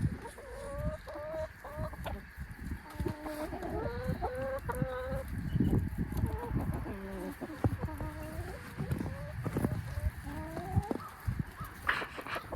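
Chickens on a homestead cluck and make rapid, rhythmic vocalizations as they cross the yard toward a greenhouse, fairly close and continuous throughout, with scattered thumps and other outdoor noise mixed in.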